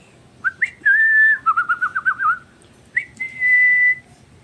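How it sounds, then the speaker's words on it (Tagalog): A parrot whistles in bright, clear tones, a long held note, a warbling run, then another sustained whistle, close and alone. "Bilis kagad gumaya ng sipol."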